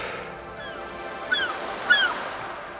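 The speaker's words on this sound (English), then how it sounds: "So I've got the seagulls, I've got the ocean waves" Seagulls cry a few times over a steady wash of ocean waves, the calls brief and somewhat distant against the continuous surf.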